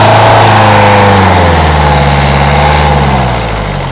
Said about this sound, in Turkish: 3-4 bin devire kadar bir gaz versin.